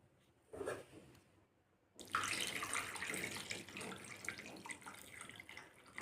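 Water poured into freshly churned cow's-milk cream while making ghee, a close, steady splashing pour that starts abruptly and keeps running at an even level.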